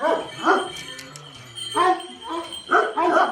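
Large shepherd dogs bark on a farm in a village near Elazığ, giving repeated deep, loud barks in three bursts with short gaps between them.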